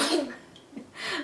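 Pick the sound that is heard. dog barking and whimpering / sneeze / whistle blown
sneeze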